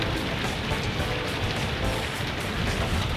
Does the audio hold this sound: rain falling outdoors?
yes